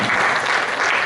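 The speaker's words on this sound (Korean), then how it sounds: "한번 박수 한번 더 드리겠습니다." An audience applauds at a church ministers' spiritual retreat closing worship service: dense, steady clapping from a full room, loud and sustained without a break.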